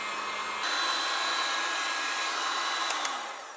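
Hair dryer used to dry a watercolor painting: a steady close blowing whir that starts abruptly, holds level, then winds down at the end.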